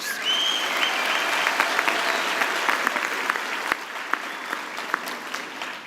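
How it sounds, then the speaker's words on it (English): Sustained applause from a large audience at an evening university graduation ceremony, a dense even wash of clapping with a few sharper individual claps standing out as it slowly tapers. "I think that deserves a round of applause."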